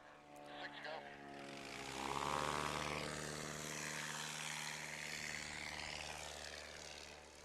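A propeller airplane takes off at a short takeoff and landing competition in Gainesville, Texas, its engine roaring up to a loud steady drone that holds to the end while a commentator talks over it.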